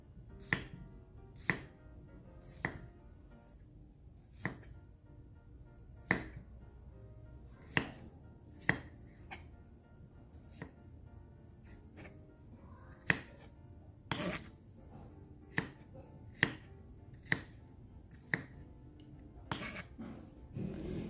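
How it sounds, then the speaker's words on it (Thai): A knife slices Chinese garlic thinly on a cutting board, producing about twenty crisp, sharp taps at an uneven pace, close and fairly quiet against a soft background, with no talk. "นำกระเทียมจีนมาซอยบางเตรียมไว้นะคะ"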